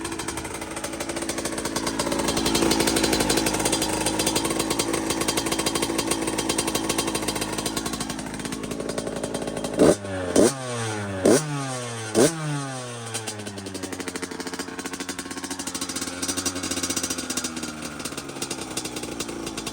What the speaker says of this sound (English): Got nice throttle response, not bad.